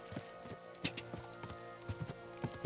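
Horse hooves clip-clop at an easy walking pace in Kingdom Come Deliverance 2, soft irregular thuds over faint background music.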